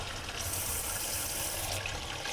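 Hot water streams steadily from a faucet inside an A-liner camper trailer, a constant broadband rush that holds near and fairly loud throughout, with no talking.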